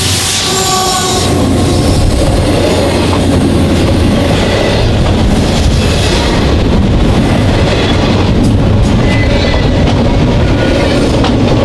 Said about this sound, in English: eastbound intermodal train Q12207, which was emerging from the Big Bend Tunnel